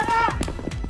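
Horse hooves clip-clop in quick running beats, loud and close, punctuated by sharp thumps while a voice shouts over them.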